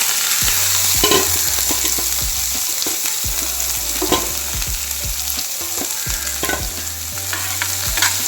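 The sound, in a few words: stir-frying vegetables in a pan for egg fried rice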